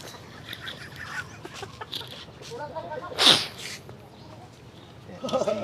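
Chickens cluck close by in a backyard setting, with scattered short calls and one sharp loud squawk midway, over light background noise and people talking.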